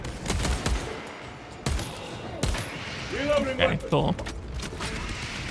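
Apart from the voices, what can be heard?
SMG gunfire in Warhammer 40K: Space Marine 2 video game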